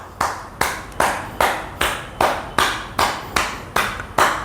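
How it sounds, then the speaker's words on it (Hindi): Cupped hands clapping rhythmically along the spine as an acupressure exercise, about eleven sharp, evenly spaced hollow slaps, close and loud, with no talking. "तो स्पाइन पर मैं ताली बजा रहा हूँ, एक तरह से ताली बजाकर उसको एक्टिवेट कर रहा हूँ"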